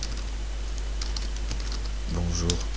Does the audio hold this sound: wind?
no